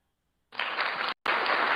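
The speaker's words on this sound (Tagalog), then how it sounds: "Medyo nahuli po yung ating palakpak." Applause from an online class arriving over delayed audio, a burst of many hands clapping that cuts out briefly and then resumes, compressed and steady.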